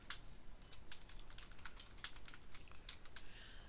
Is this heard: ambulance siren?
no